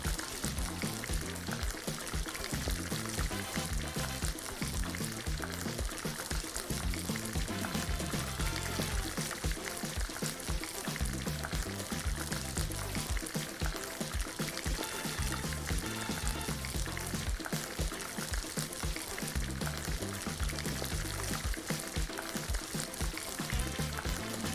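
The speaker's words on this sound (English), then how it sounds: "Along with some fresh harvest coconut milk. And we're mixing it up again." Coconut milk poured and stirred into a pot of curried corn soup on the stove: a continuous low, faint liquid splash and sloshing with soft sizzle, steady for the whole stretch.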